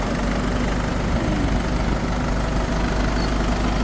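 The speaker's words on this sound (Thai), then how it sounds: "นะครับเสียงเครื่องยนต์" A 2014 Isuzu D-Max pickup truck engine idling nearby, a steady low rumble with constant vibration and no change in revs.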